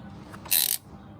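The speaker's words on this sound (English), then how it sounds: "you take your tool and it just kind of clamps on there" A ratcheting clamp tool crimps a plumbing fitting onto a barbed end during an RV plumbing job, giving a single loud, bright metallic click-crunch lasting about a quarter second, near and alone against a quiet background.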